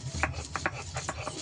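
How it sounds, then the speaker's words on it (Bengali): Three medium-sized onions ground to a paste by hand on a stone in a village kitchen, a quiet run of short, rhythmic rubbing and crushing strokes repeated close by with no talking. "পেঁয়াজটাকেও বেটে নেব"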